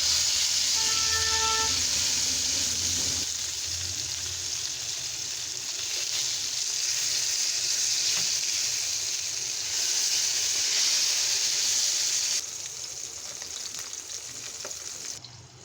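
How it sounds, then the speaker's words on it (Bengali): Tilapia fish fries in hot oil with a loud, constant sizzle and hiss that carries on steadily close by, easing slightly in level near the end. "তেলাপিয়া মাছ ভাজা করছি।"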